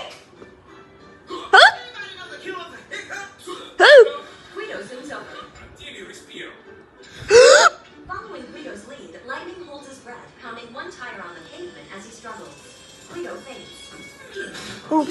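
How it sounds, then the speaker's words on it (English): An animated car character from a Cars cartoon hiccups three times, each hiccup a loud, sudden burst over light cartoon chatter and background sounds. "Hiccups."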